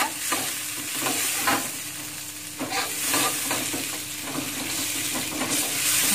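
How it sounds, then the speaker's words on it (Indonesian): Onion stirred in melted butter in a pan: continuous sizzling with repeated scraping spoon strokes in an uneven rhythm, close and clear. "Kita aduk bawang bombaynya"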